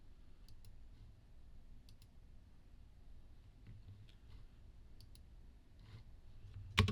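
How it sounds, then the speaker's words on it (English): Sparse, faint clicks from a computer keyboard spacebar pressed a few times during 3D modeling work in Fusion 360, light taps spread across a quiet background with one sharper click near the end. "So spacebar one more time."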